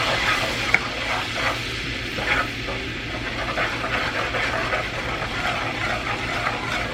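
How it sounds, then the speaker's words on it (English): Spices stirred in a cooking pan after garlic powder and cayenne go in, a steady scraping stir over a constant hiss, with a few brief clinks of the utensil near the start. "And just kind of stir all this up."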